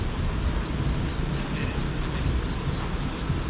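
A supercharged Murder Nova small-block race engine runs loud and steady, a dense roaring rumble with a constant high whine over it and no pause throughout.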